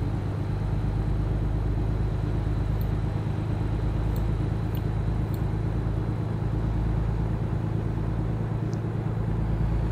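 Heavy truck engine revving and accelerating on a Nevada highway in American Truck Simulator, a steady loud low rumble with droning tonal hum running throughout, no talk.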